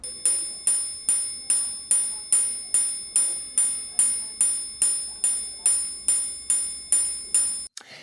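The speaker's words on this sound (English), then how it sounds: "you've got a glorious chiming alarm to boot" A small bright chime from a Patek Philippe Alarm 5520RG wristwatch repeats in a steady, even rhythm, about two strikes per second, each ringing briefly before the next, then stops abruptly.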